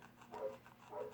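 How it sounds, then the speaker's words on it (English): Next door, the neighbor's dogs bark twice, faint and distant, as two soft, muffled bursts about half a second apart against quiet background. "I personally love that my neighbor's dogs are noisy"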